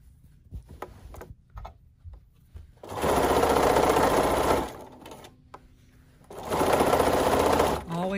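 A sewing machine with a walking foot stitches quilt binding in two fast, loud bursts of rapid stitching, separated by quieter pauses with handling noises and a person speaking.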